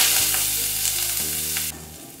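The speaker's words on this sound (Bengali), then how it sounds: "তেলটা গরম হয়ে গেছে, এবার আমি এতে দিয়ে দিচ্ছি পেঁয়াজ কুচিগুলো" Chopped onions hit hot oil and crackle in a loud, continuous sizzle, with a steady tonal musical backdrop throughout.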